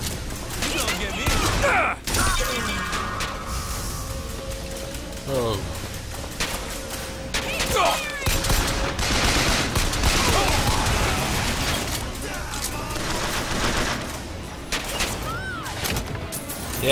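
Gunfire from the BioShock Infinite video game crackles through a dense, busy battle mix, with shots and mechanical sounds running nearly nonstop under a voice.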